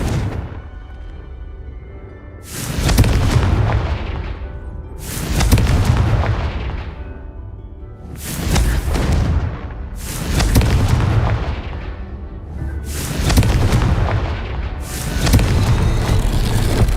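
Repeated Confringo fire-spell blasts in Hogwarts Legacy, roughly six heavy booming explosions every two seconds or so, each with a loud rumbling low end and crackling tail, no talk.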